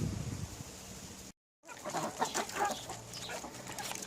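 Chickens cluck and chatter close by as tomatoes and other vegetables are tossed to them whole, a steady busy flock noise with a brief dropout midway.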